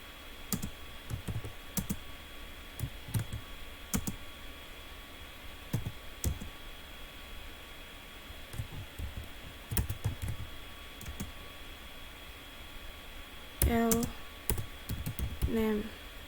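Keys clatter steadily on a computer keyboard as Python code is typed, an irregular run of close, light clicks with brief pauses, while a voice talks quietly in the background.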